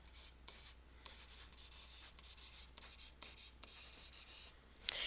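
Quiet scratchy strokes of writing on a board during a maths lesson on solving equations come in short, irregular bursts, faint and close, with no one talking.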